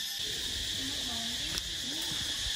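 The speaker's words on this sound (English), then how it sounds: "that with the sound of the bugs, like buzzing" Insects drone with a steady high buzz in a dark stone temple hallway at Angkor Wat, a constant shrill hum under faint low sounds from the corridor.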